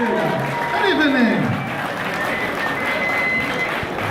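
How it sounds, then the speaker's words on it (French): Crowd clapping and cheering at a cosplay contest results ceremony, a broad continuous roar of hands with voices and a sliding tone over it, and people talking through it. "Veuillez applaudir le groupe Vocaloid A1"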